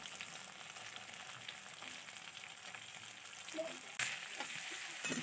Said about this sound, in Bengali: পেঁয়াজ আর ক্যাপসিকামটাও প্রায় ভাজা ভাজা হয়ে এসছে